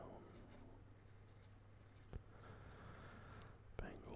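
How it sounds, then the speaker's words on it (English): A pen scratches across paper softly and close up, in brief quiet strokes over a low steady hum, with a couple of sharp taps. "Hold on, I need to write this down."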